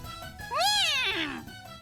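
A cat in the visual novel game If My Heart Had Wings gives one drawn-out meow that rises and then falls, clear and close over a soft musical background, with no talk.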